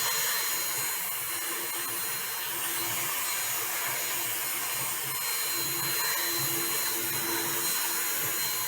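Silicone mold compound being mixed for a flower pot mold, heard as a steady broadband whirring drone that runs evenly through the whole stretch at close range, with no talking.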